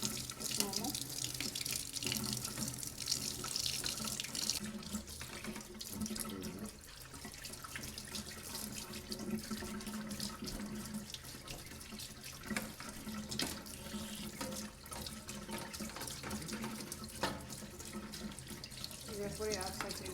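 Tap water runs steadily into a sink while an air purifier filter is rinsed under it, a continuous splashing flow with shifting clatter and brief pauses, and a voice speaking faintly in the background.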